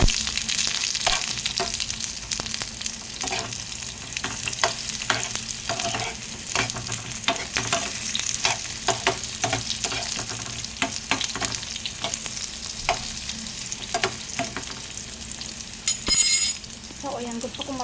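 Two eggs frying in a pan with onions, a loud, steady sizzle with frequent spatula scrapes and taps close by, and brief speech in the background.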